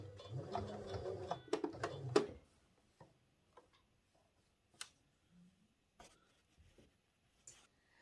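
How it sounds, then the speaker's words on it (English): Sewing machine stitching a fabric collar onto its collar stand, heard as a short dense run of fast mechanical clatter for about two seconds, followed by scattered faint ticks and handling clicks in a quiet room. "Just stitch this collar on the collar stand."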